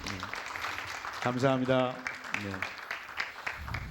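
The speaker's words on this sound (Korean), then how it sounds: "박수 좀 부탁드립니다" Applause from a seminar audience at a dental implant meeting in Seoul rises after a lecture, moderate clapping spread through the room while someone speaks over it on a microphone.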